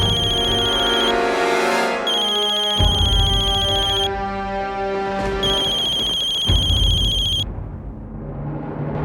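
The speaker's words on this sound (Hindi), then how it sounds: "अगम जी का फोन।" A telephone rings with a bright electronic ringtone in a Hindi drama scene, repeating bursts of tone over a steady musical background for several seconds.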